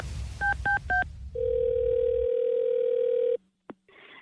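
Telephone call tones on a live radio station show: three short dual-tone beeps followed by a long steady dial tone, then a brief click and a faint tone, clear and close.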